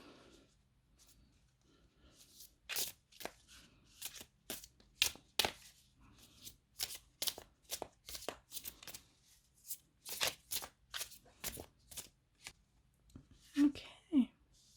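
Tarot cards riffle and snap in repeated quick bursts, close up, with soft pauses between shuffles and a faint voice near the end.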